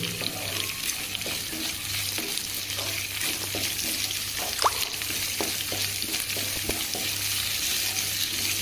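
Onions frying in a pan for poha upma, a loud steady sizzle up close with frequent clicks and scrapes of stirring, no voices.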